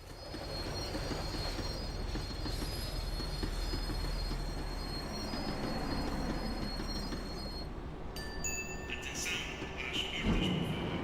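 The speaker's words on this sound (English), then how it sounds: "The tram was slowing down, and I'd only just gotten on board." Rail noise from a tram slowing down in the video game Max Payne 3: a steady low rumble of wheels on track with squealing metallic tones, loud and continuous, brakes shrieking near the end.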